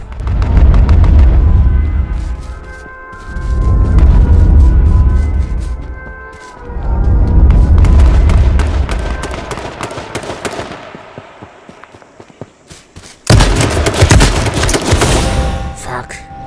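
Gunfire in the video game H1Z1, with loud bursts of rapid shots and booming blasts coming in waves, separated by brief quieter gaps, then a harsh final burst.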